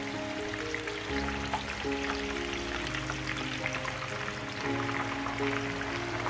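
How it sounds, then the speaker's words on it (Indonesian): Fish frying in hot oil for an Indonesian dish, a steady broadband sizzle and crackle continuing throughout with a soft musical tone layered beneath, no talking. "Anda panaskan minyak dan Anda goreng ikan hingga berubah warna dan ikannya masak"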